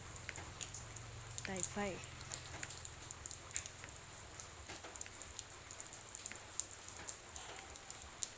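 Heavy rain pours steadily with scattered sharp drips and splashes, while a person speaks briefly over the downpour.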